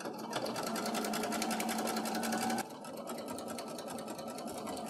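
A sewing machine stitches through a pinned T-shirt quilt in a steady, fast mechanical whir of rapid needle strokes, close and continuous, easing slightly in pitch and level partway through.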